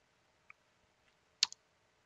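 A computer mouse clicked during software setup: a few faint, sparse clicks in a quiet room, with one sharper double click near the end.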